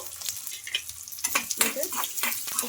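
Onions and cumin seeds frying in a pan and stirred together, a light sizzle under repeated scraping and clinking strokes of the spoon, close and uneven, with no talking.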